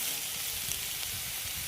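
Papaya and potato curry sizzles steadily in a pan as it is stirred, a close, even frying hiss with no voices.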